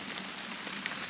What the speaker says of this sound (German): Und jetzt regnet es so richtig in Strömen.